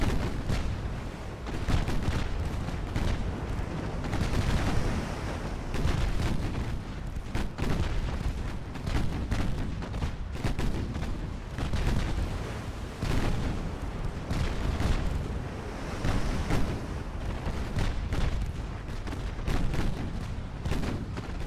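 Secondary naval guns fire steadily at enemy warships in Ultimate Admiral Dreadnoughts, with dense, continuous booms and rumbling artillery under a constant battle din.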